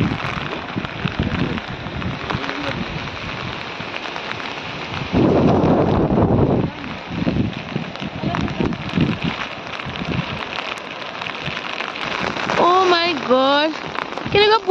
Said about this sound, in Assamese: কেনেকুৱা বৰষুণ আমাৰ ছাতি ভাঙি গ'ল